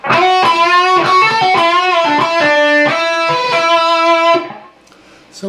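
An overdriven electric guitar plays a run from a solo, with a slide and a string bend, quick picked notes and sustained bends held loud for about four seconds, then the sound drops to near silence.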